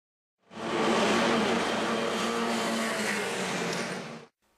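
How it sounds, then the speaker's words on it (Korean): Race cars roar past at the Yeongam International Circuit during practice at the 2016 Korea-China-Japan motorsport festival, a loud, steady engine wash that swells in, holds for several seconds, then cuts off. "연습 경기가 시작된 첫날부터 속도감을 뽐내는 차량들의 엔진음이 가득합니다."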